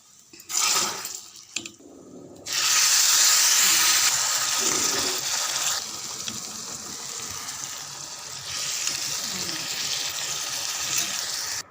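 A steady, close splashing pour of boiling anchovy curry into a pot that runs for several seconds after a few brief clatters.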